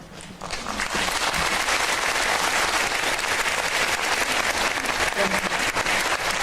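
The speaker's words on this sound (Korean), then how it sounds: "문현배 재판관이 열심히 강의해 주신 문현배 재판관님께 다시 한번 큰 박수 부탁드립니다." Sustained, loud applause from a lecture audience in Gwangju after a special talk by former Constitutional Court justice Moon Hyung-bae, dense clapping that swells quickly and holds steady throughout.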